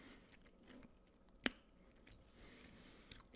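Very quiet, close chewing of a crunchy toasted bread salmon salad sandwich, soft moist mouth sounds with one sharp crisp bite standing out, no talking.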